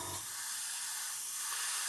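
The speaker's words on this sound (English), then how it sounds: "I'll turn the airbrush around, spray like that" An airbrush spraying paint onto a scale model car door gives a steady, close, high hiss of air and paint mist that runs unbroken from start to finish after a brief low rumble, with no talking.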